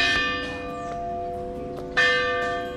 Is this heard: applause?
no